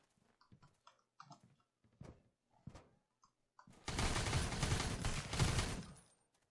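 Gunfire in the survival game Sunkenland: a few scattered sharp clicks and single shots, then a loud, dense burst of rapid automatic fire lasting about two and a half seconds before cutting off.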